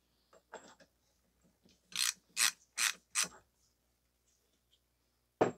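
A ratchet wrench clicks as it turns a 32 mm socket on a CV axle nut: several short loud bursts of ratcheting in a quiet shop, with a couple of faint clicks around them.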